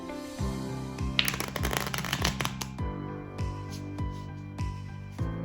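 A deck of playing cards is riffled and shuffled, a crisp fluttering burst in the middle of the clip. Soft background music with rhythmic pulses plays underneath.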